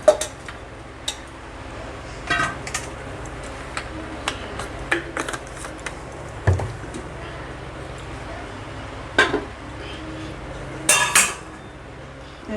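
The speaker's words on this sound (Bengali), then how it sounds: "আমি প্রেসার কুকারে এবারে দিয়ে দিচ্ছি।" Mutton pieces and potatoes tipped into a pressure cooker, giving scattered metallic clinks and knocks of spoon against pot at irregular intervals, with a louder clattering burst near the end.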